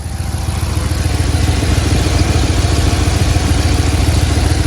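A Dodge Charger, Challenger or Chrysler 300 engine idles close by after a new radiator fan was fitted: a loud, steady low pulsing drone with a whirring layer over it, and no speech.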